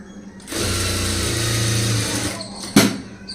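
Sewing machine stitching double seams on a front-gap blouse, a steady close whirring run of about two seconds, then a brief stop and a short sharp burst of stitching.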